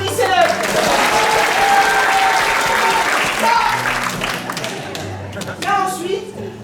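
An audience at an improv theatre festival applauds warmly, dense clapping filling the room close by, with voices and crowd murmur mixed in as the clapping gradually thins.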